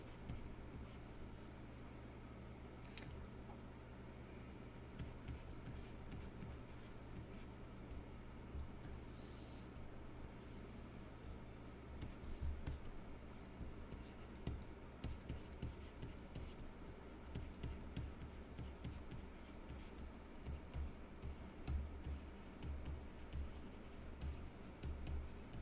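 A pen or marker writes out a geometry problem, giving faint, close scratching and tapping strokes in irregular bursts over a quiet background, growing busier toward the end.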